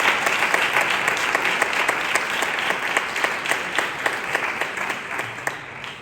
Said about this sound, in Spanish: Un aplauso para todos a la hermandad de Almería.